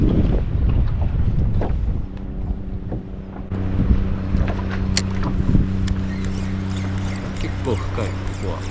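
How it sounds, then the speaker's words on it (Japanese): Strong wind buffets the microphone at a seaside cape in Tsushima or Iki, with gusty rumbling, a steady low engine-like hum and faint splashing water in the background. "ここまで来たら風が吹いてくる。"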